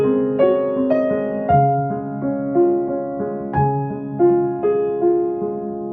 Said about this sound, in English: That second piece was the middle section of Chopin's Fantasie Impromptu.